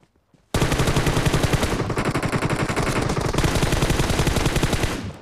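Rapid automatic gunfire rattles out in a dense, continuous burst during a battle royale match. It starts abruptly after a short quiet moment and lasts about five seconds with no voices.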